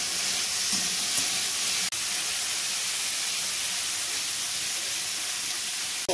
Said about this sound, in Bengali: সাদা তেলটা গরম হওয়ার পর প্রথমে গাজরটা একটু হালকা নেড়ে নিতে হবে।